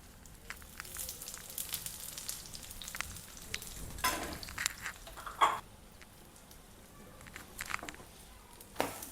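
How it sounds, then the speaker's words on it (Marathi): Broccoli cheese paratha roasting in ghee on a flat pan, a soft, quiet sizzle with faint crackles and a few light handling taps and scrapes. "तूप लावून छान भाजून घ्यायचं"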